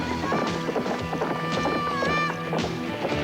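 Horse hooves clip-clop in a quick, uneven trot close by, with a brief whinny rising over the hoofbeats.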